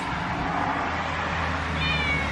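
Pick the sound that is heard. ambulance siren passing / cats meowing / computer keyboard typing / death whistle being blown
cats meowing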